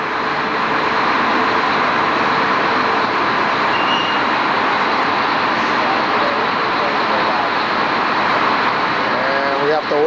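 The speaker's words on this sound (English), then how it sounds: "we have to wait for the train to go by" A train runs below a segmental concrete bridge construction site, a steady loud rumbling roar with broad noise throughout, heard from overhead.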